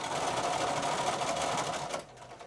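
A sewing machine runs steadily, stitching piping onto a cushion cover, its fast even whir continuing for about two seconds before stopping abruptly, leaving a quiet tail.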